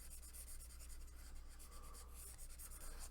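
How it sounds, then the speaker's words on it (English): An eraser rubs back and forth across paper, a faint steady scrubbing with a soft rhythmic pulse of strokes and no voices. "Erase all this stuff here."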